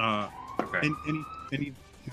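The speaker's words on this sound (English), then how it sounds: "I'm sorry for the siren in the background." A real-world ambulance siren wails in the background, a faint rising and steady tone under a person's speech, with the sounds of an animal role-playing video game mixed in.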